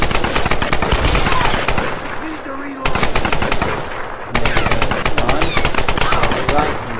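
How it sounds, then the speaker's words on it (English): Rapid gunfire from a marksman rifle in the Tomb Raider game on PS4, played with a modded controller, loud and close in dense bursts with two brief pauses, no talk over it. "these assault rifles, especially the marksman rifle, go ahead and shoot yours"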